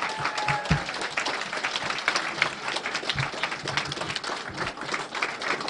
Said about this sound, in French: je vous demande maintenant de vous lever et d'acclamer très fort